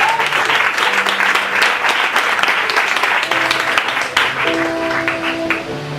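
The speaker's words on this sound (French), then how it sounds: "Est-ce que quelqu'un peut acclamer Jésus?" A church congregation applauding and cheering for Jesus at a prophetic service, with sustained dense clapping and cheers filling the room, loud and continuous throughout.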